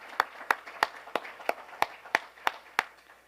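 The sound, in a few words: audience applause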